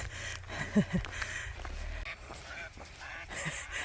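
A few honking duck calls sound briefly near the start over soft outdoor background noise near a dam in South Korea, then fade to quieter ambience.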